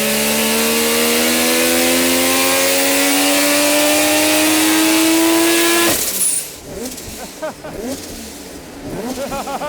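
A Mazda 20B rotary engine with a G45-1500 turbo on a dyno screams steadily upward in pitch for several seconds at full load, then cuts off abruptly into rattling, uneven noise.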